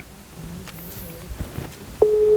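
A telephone call rings out unanswered, the ringback tone starting near the end as a steady, loud electronic tone after quiet background rustle and faint footsteps.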